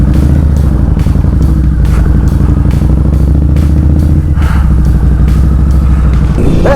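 A motorcycle engine runs loud and steady throughout, its dense rumble rising as the rider shifts up into third gear on a road with metal plates, with no talking over it.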